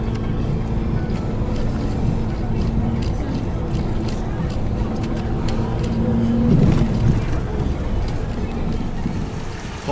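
A truck drives along a mountain road with a steady, close engine and road rumble mixed with wind buffeting, while a person talks over the drone.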